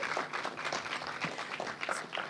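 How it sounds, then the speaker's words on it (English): Audience applause at an NPTEL workshop at IIT Bombay, with many hands clapping steadily and fairly close, the texture slightly uneven with individual claps standing out through the short burst. "A round of applause for him."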